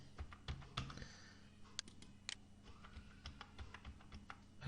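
Typing numbers on a computer keyboard, a short run of soft, irregular key clicks up close and faint, with no talking.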